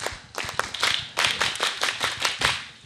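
A group of scouts performs the tepuk pramuka, a scout clap of sharp, patterned handclaps in quick rhythmic bursts at close range, with short pauses between the clusters.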